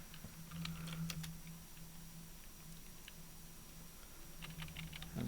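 Code being typed on a computer keyboard, light rapid clicking in scattered bursts over a steady low hum, fairly faint and close.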